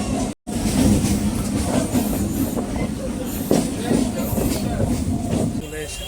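Crowded passenger train heading toward Ranaghat, a continuous rumble and rattle of wheels on track heard from inside, with people talking over it.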